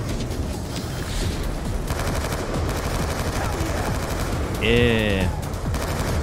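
Rapid bursts of turret machine-gun fire in the Call of Duty Black Ops II video game, continuous and dense throughout, with a brief electronic tone near the end and a voice speaking briefly.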